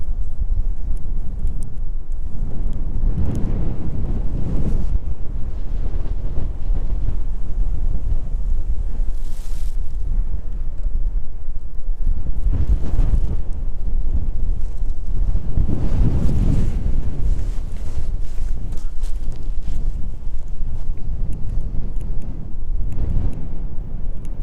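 Strong, gusty wind buffets the microphone beside the runway at East Midlands Airport on an evening, rising and falling in loud rushing surges with no voices.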